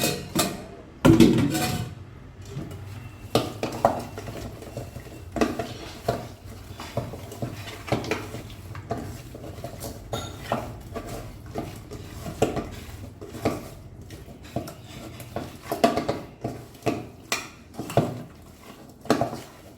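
Chicken is worked into a masala marinade in a bowl for a long stretch: steady close clattering, knocking and tapping of a utensil against the dish in an irregular rhythm, with no one speaking.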